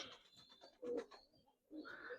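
A Giribaz pigeon in a loft coos in two soft, throaty bursts separated by a brief pause, close and fairly quiet, with no talking.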